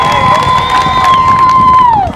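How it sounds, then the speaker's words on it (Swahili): A choir event audience cheers loudly at close range, with a long high sustained whistle or ululation that holds steady and then slides down, over a dense roar of crowd voices. "Tupige makofi mengi mengi."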